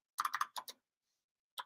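Typing on a computer keyboard in a code editor: a quick cluster of about six crisp key clicks, a short pause, then another keystroke, close and clear with no talking.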